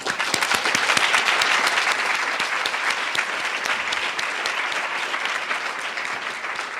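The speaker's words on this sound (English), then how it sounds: "I wonder if we might all applaud them now." An audience at a New School literary event breaks into sustained applause, dense steady clapping filling the room for the whole stretch and easing slightly toward the end.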